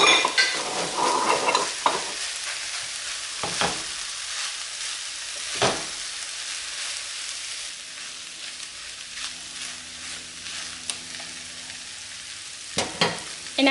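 Rice sizzles in a pot while being stirred for Persian stuffed bell peppers, a steady crackling fry broken by a few sharp spoon scrapes, close and fairly loud with no talking.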